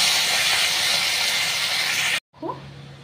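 Amudi fish frying in hot oil: a loud, steady sizzling hiss that runs for about two seconds, then cuts off abruptly, leaving quieter kitchen sounds.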